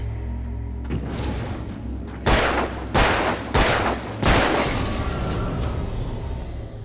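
Gunfire in the Alan Wake video game: a first softer shot, then four loud, close blasts in steady succession, each with a booming decay that fills the space before the next.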